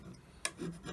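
A hand scraper works a steel surface on a lathe compound slide, giving one short, sharp rasping scrape followed by softer rubbing, close and brief.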